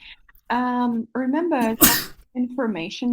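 A single sharp, loud sneeze bursts out between stretches of speech, with people talking just before and right after it.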